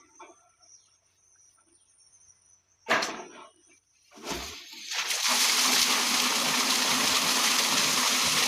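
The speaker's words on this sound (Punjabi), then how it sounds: "ਲੋ ਜੀ ਮੋਟਰ ਚੱਲ ਵੀ" Water gushing from a running farm water pump motor in a field, a loud steady broadband rush that starts suddenly and continues, preceded by quieter clatter and a couple of bumps.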